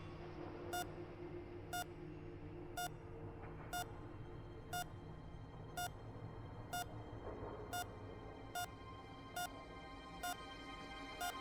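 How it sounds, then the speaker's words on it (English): Repeated electronic beeps in the video game Children of Morta, sounding at a steady pace about once a second over a low droning ambient background, clear and prominent. "That beeping does not sound good."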